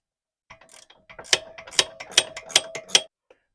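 A wrench ratcheting up close, a run of sharp metallic clicks followed by five strong, evenly spaced ratchet strokes, alone without talk.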